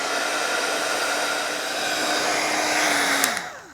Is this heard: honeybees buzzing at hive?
no